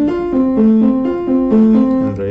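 Opening chords of the Gravity Falls theme on a piano or melodica, a short repeating pattern of alternating notes with a sustained reedy tone, close and steady, nothing else heard.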